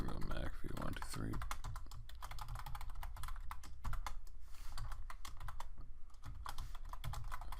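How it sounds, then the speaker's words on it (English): Fingers type a password on a computer keyboard, a dense, fast run of close plastic key clicks continuing steadily throughout. "If I can type it right."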